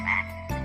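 A single frog croak, close and clear, a short rough call followed by a low rumbling sound at the end, with no talk.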